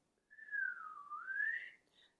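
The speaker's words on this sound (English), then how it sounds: "it's kind of like whistling" A single clear whistle glides down in pitch and back up, ending in a short higher note, close and alone in silence.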